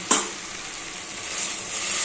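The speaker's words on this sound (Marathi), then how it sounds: "आता याच्यामध्ये पाणी टाकायचं" Water poured into rice frying in a pot with green peas, hitting with a sharp burst of sizzle that settles into a steady hiss.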